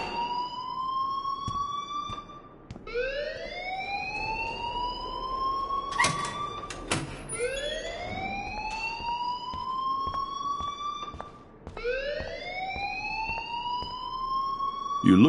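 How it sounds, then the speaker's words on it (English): A wailing electronic alarm rings in the video game Life is Strange, repeated rising siren-like sweeps that cycle every few seconds, loud and continuous with a few sharp clicks between sweeps and no talking. "please turn off that alarm since that's your job"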